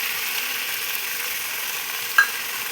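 Chicken frying in a pan with homemade yogurt added for doi chicken. A steady sizzle carries through with soft stirring, and one brief scrape lands near the end. Nobody speaks.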